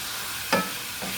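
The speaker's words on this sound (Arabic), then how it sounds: "هنفضل طبعا نقلب فيها كده لحد ما تاخد لون كلها مختلف وتحمر" Meat cooked with sugar is stirred in a frying pan, giving a quiet steady sizzle with one brief louder scrape of the spoon partway through and a softer one near the end.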